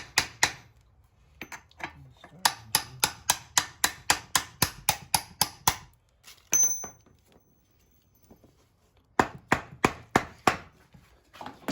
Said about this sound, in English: sprayed it down with a little WD-40 before hammering it in